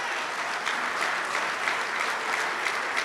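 A room full of attendees at a Newark mayor's men's breakfast gives a round of applause, a steady, dense patter of clapping at even loudness with no voices over it.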